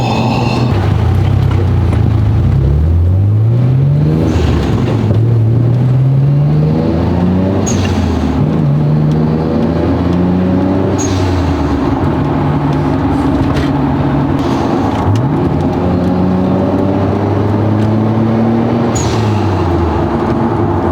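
A Nissan R34 GTR's engine pulls through repeated gears while driving, revs climbing in rising sweeps then dropping at each shift, loud and close inside the cabin, with no talking.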